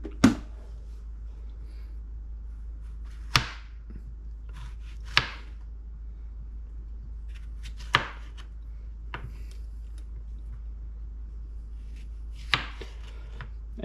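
Squash being sliced for frying with a knife: about six sharp, isolated chops spaced a second or two apart, close and fairly quiet, with no talking.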